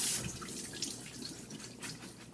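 Cold tap water runs over cabbage in a kitchen sink, a faint hissing trickle with soft splashes and drips, quiet and close.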